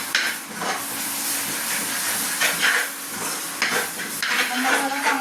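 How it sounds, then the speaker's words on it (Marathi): Ground masala paste fries in hot oil in a pan for a Marathi vegetable dish, a steady crackling sizzle broken by several scraping stirs of a spoon, close and fairly loud with no talk. "मसाला चांगला भाजून घ्यायचा."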